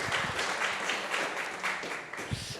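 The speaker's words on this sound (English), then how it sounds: "Round of applause for the Rosewood." Audience applause at an Icons lunch at the Rosewood venue, a continuous close wash of clapping filling the whole brief stretch.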